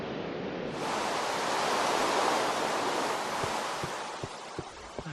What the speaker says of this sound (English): It's supposed to be the waterfall elevator.